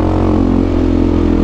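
Enduro motorcycle engine fitted with a KTM sport exhaust, running steadily close by at a loud, even idle-to-mid rev drone for a brief moment, no voices.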